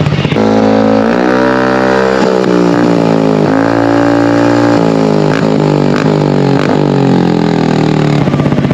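A Carbon 370 motorcycle with no silencer revs hard and close, its raw, loud exhaust rising and falling through several throttle blips over a rough, burbling idle.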